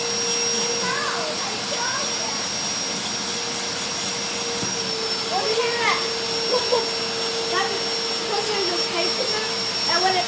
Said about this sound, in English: This vacuum is like a normal vacuum, but it can vacuum up water, dirt, and algae.